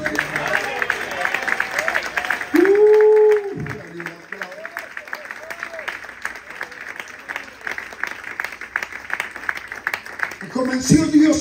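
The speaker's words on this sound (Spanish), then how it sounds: "Dale un aplauso." Congregation applause in a church service, sustained dense clapping throughout with crowd voices and a loud shout or cheer rising over it, plus voices near the end.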